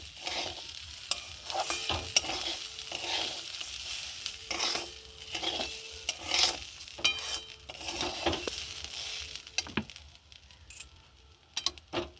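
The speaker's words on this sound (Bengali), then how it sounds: "ভালো করে একটু লাল লাল করে ভেজে নেব।" Ingredients for basanti pulao frying in a pan while being stirred, rhythmic scraping stir strokes over a soft continuous sizzle, close and moderately loud, quieting toward the end, no voices.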